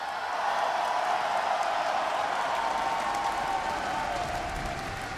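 A large arena crowd at the BlizzCon 2018 Warcraft Arena grand finals applauds and cheers in a dense, steady wash of clapping that holds throughout, with faint voices mixed in.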